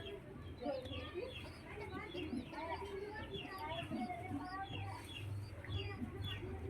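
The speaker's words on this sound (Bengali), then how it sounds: "বেশ এই পায়রাটা কেমন" Pigeons in a loft cooing with repeated soft, rolling calls, mixed with other clucking fowl, a busy steady chorus of overlapping bird sounds.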